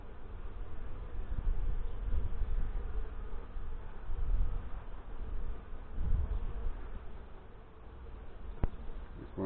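Honey bees mill around an open hive during a swarm hive check, a steady close droning buzz filling the air continuously with occasional louder passes by individual bees; no talk.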